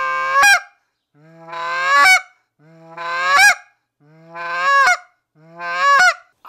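A goose call used to imitate geese, blown in five honks at an even pace, each rising from a low moan into a sharp cluck at the end, loud and close with short gaps between.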